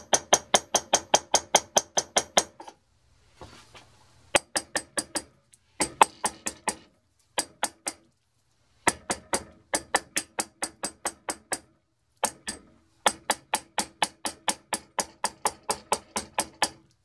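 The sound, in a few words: light tapping to help Loctite 290 flow down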